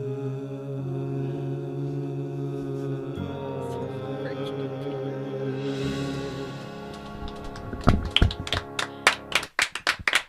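A small group claps near the end of a call-in comedy podcast episode, a short burst of sharp hand claps breaking in after sustained musical tones.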